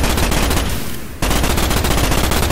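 Merida Mark IV rifle in the Starship Troopers video game fires two rapid bursts of automatic gunfire, loud and close, broken by a brief gap of about a quarter second before the second burst resumes.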